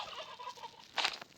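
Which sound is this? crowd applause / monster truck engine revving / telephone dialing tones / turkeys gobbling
turkeys gobbling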